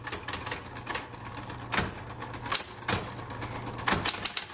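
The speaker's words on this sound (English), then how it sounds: "So this typewriter types very well." A 1970s Smith Corona Electra 120 electric typewriter, metallic blue, types in a fast, continuous run of sharp key strikes, with a few louder clacks and a steady motor hum underneath, close and fairly noisy.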